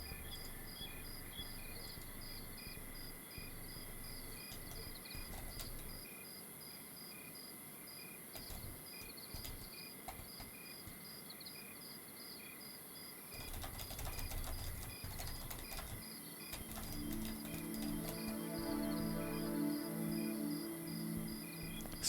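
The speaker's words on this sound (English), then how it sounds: "Snow crickets." Snow crickets in a video game biome: a continuous high, shrill chirping drone that stays steady throughout, joined near the end by a softer low cooing, with no voices.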